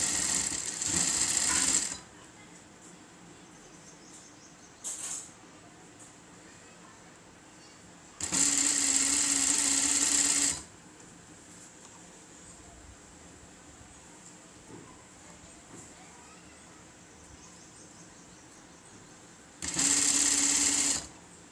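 Sewing machine stitching thread piping on fabric, running in three or four bursts of a few seconds each, close and fairly loud, separated by quiet pauses with no talk.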